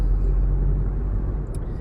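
A car pulls away again after slowing on a road, engine running rough and spluttering; a steady low engine rumble holds throughout, close and continuous, with no talking.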